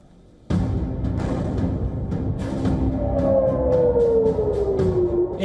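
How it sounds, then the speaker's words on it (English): Air raid sirens wail during a military strike on Tehran, a rising-and-falling siren tone sustained over a loud, dense wash of background noise that starts abruptly after a brief quieter moment. "Air raid sirens"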